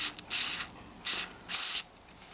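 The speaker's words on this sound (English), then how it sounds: "Give that a spray in there." Aerosol bursts of XCP rust blocker lubricant sprayed into a lock, several short close hissing spurts with brief pauses between them, the last burst longest and strongest.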